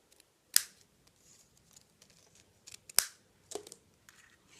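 Scissors trim paper for a Harry Potter card in a few sharp, close snips spread across a few seconds, with soft rustling of paper between cuts in an otherwise quiet room.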